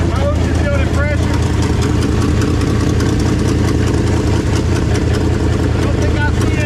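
A 1968 Dodge Charger R/T with a new all-aluminum radiator idles loud and close, a steady rumbling run with no pauses, while a person talks nearby.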